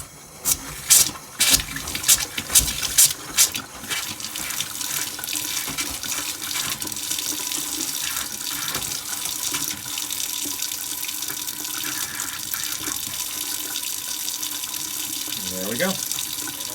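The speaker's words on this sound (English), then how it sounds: "once it just has a steady stream of water" Water gushes from a water heater during maintenance in a steady, continuous stream after a few sputtering spurts at the start, running loudly and evenly throughout.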